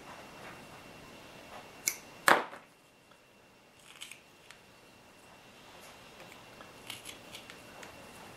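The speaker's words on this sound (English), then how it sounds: "If you don't cut those off, they will interfere with your shifting." Small hobby nippers cut plastic parts for a 1/14 Tamiya RC truck's 3-speed transmission off the sprue, giving one sharp snip, then several faint clicks in a quiet room.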